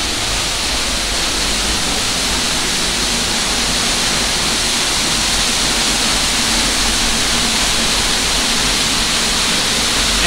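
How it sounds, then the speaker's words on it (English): Waterfall at the Canada pavilion in Epcot roars as a steady, loud, broadband rush of falling water, close by and unbroken, with no talk over it. "But this is the waterfall."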